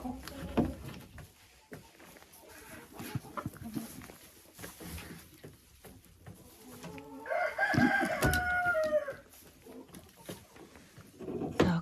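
Chickens in a coop, with a hen clucking and a rooster crowing loudly in the middle, among scattered rustling and tapping handling sounds nearby.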